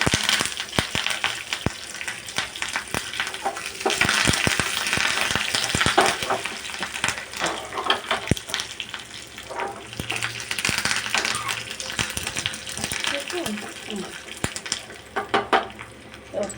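Tempering seeds, two dried red chillies and two sprigs of curry leaves fry in hot oil, crackling and sizzling loudly up close with sharp popping spatters and occasional clinks of a spoon against the pan.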